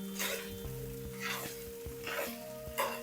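Chicken pieces sizzle in a pan while being stirred, with a scrape of the spatula about every second over a soft, constant frying hiss.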